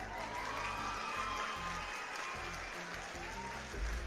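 Faint applause and light cheering from a crowd play as a sound effect, a steady patter of clapping throughout.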